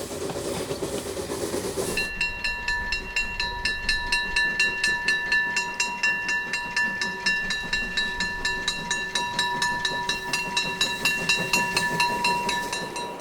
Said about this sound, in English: nothing beats the steam train experience, visually as well as acoustically